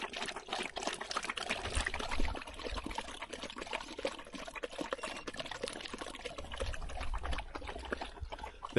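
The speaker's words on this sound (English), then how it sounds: "See if Bonnie wants a drink of water" Water pours steadily from a container into a dog's drinking bowl at a campsite on a multi-day solo camping trip, a continuous close splashing trickle lasting the whole stretch with no voices.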